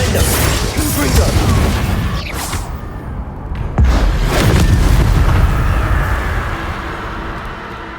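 Confringo fire spell in Hogwarts Legacy going off as loud booming blasts, a sustained roar of explosive bursts with a sharp crack near the middle, constant and close throughout.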